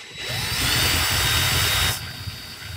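An electric drill winds wire onto a framed pulse-induction detector coil. It gives a steady, loud, close whir for just under two seconds, then drops to a quieter, lower hum.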